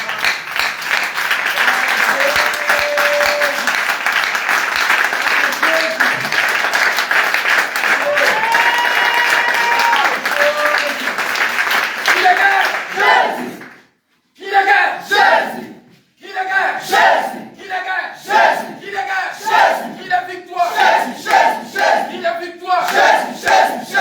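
A church congregation at a worship service loudly applauds and shouts praise to the Lord, a long roar of clapping and cheering voices that later breaks into rhythmic surges with brief pauses.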